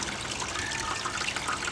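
Water from a garden hose trickles and splashes continuously in an outdoor yard, a steady close wash of liquid with no voices.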